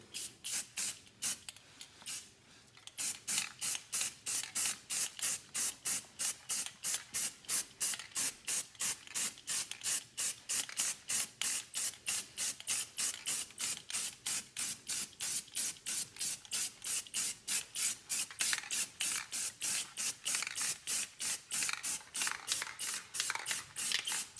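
Gloss black spray paint is misted onto car rims in cold weather, producing a long series of evenly repeated short hissing spurts, close and steady.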